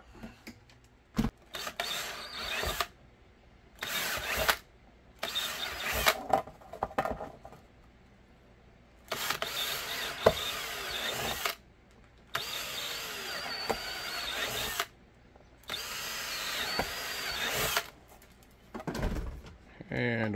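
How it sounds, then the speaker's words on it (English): A power drill whines in repeated bursts of a few seconds each, drilling six holes while making a holster, with short pauses between, close and fairly loud. "we'll drill out our six holes"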